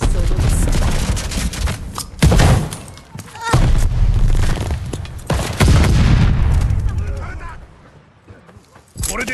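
Grenade blast and rapid gunfire in the video game Call of Duty: Vanguard, a string of heavy booms and bursts of shots with loud impacts, close and punchy, with brief quieter gaps between volleys.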